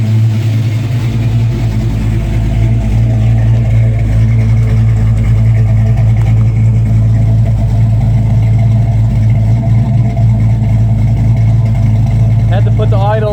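A 1994 Ford Mustang Cobra with a Crane 2031 cam idles at a raised speed, a steady, loud, lumpy rumble that holds for the whole stretch with no talk.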